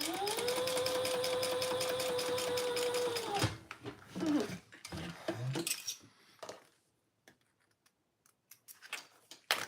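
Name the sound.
sewing machine narrow foot falling off the fabric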